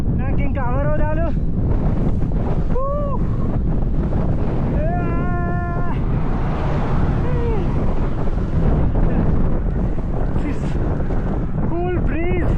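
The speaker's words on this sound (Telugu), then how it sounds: "ఆపోజిట్ విండ్ అంటే హెడ్ విండే వస్తుంది, ఎప్పుడు కూడా టేల్ విండ్ రాదు" Strong headwind on a mountain in Mongolia roars and buffets the microphone steadily throughout, with a voice breaking in at intervals over the constant rush.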